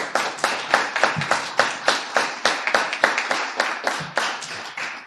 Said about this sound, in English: Please join me in giving a round of applause for the 2021 Hall of Famers